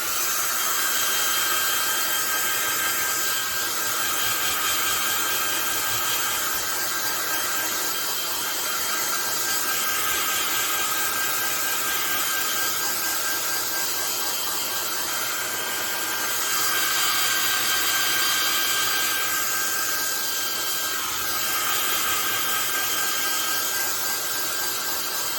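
A blow dryer dries wet paint on a Valentine painting. Its airflow rushes and whines in a loud, continuous drone with gentle swells, and no talking over it.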